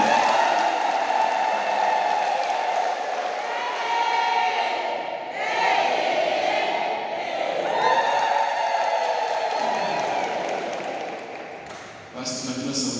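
A congregation at a thanksgiving Mass for a priest's ordination claps and cheers loudly in a large crowd, a sustained roar of applause and ululating voices that swells and holds before trailing off near the end.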